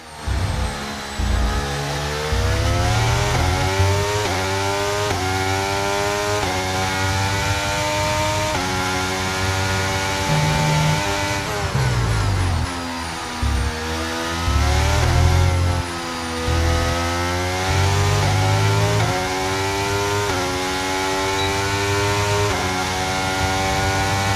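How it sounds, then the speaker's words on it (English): F1 23 racing game Formula 1 car engines screaming at high revs, loud and continuous with sharp gear-change dips and rising pitch sweeps, an energetic layered engine roar with no talking. "very, very interesting to hear the different sounds, of course, from all of the cars"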